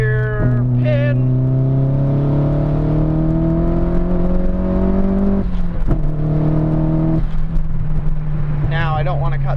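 Nissan SR240 engine pulling hard at full throttle in third gear, a loud steady rising drone that climbs in pitch, with a brief shift dip near the end before it keeps roaring.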